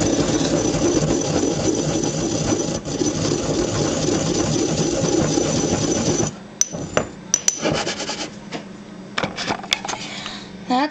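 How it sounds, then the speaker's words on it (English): Mortar and pestle grinding herbs by hand for incense; steady dense gritty grinding for about six seconds, then sparse separate knocks and scrapes, close and moderately loud. "This mortar and pestle, I specifically only use this one for making incense and grinding up herbs for incense"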